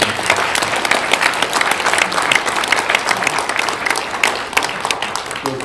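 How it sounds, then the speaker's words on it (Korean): An audience at a commemorative panel discussion gives Dr. Jang a warm round of applause, loud, close and continuous clapping with crisp individual hand claps throughout. "저 뜨거운 박수 한번"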